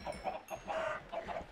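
Chickens on a video game farm cluck in quick, repeated bursts, close and clear with no voices over them.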